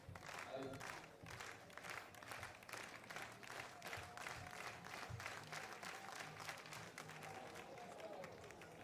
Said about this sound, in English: Clapping him down the runway.